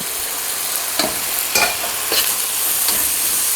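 Pork fried rice with garlic, onion, ginger and sauce being stir-fried, a steady close sizzle broken by several sharp scrapes and tosses of the spatula against the pan.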